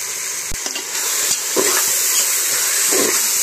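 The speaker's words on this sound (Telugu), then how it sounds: "ఇదిగోండి నూనె వేడెక్కింది కదా, ఆనియన్ వేసేస్తున్నాను." Onion and green chillies fry in hot oil for a goat head curry, giving a steady, close, loud sizzle broken by small stirring scrapes and clicks.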